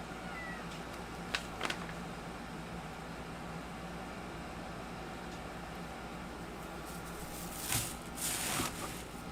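A house cat meows faintly a few times, brief calls scattered over a steady hum of room noise, with no talking.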